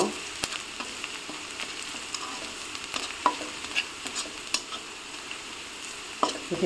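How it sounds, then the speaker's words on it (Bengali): Whole cumin seeds, onion and garlic frying in hot oil for a Bengali tengra fish curry, a steady close sizzle with occasional scraping stirs and small pops, no talking. "এখন আমি কয়েকটা গোটা জিরা দিয়ে দিলাম"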